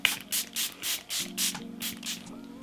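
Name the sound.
setting spray sprayed on face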